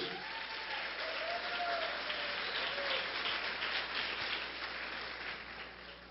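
A church congregation applauds continuously, a dense even wash of clapping that holds steady throughout with a faint tonal murmur beneath.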